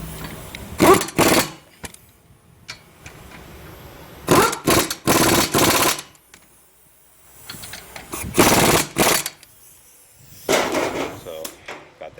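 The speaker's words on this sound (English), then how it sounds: "Now that's a certain way you tighten stuff, by hand with the impact gun." An impact gun tightening brake bolts during a front brake pad and rotor job, three or four loud rattling bursts of hammering separated by quiet gaps, with someone talking between the bursts.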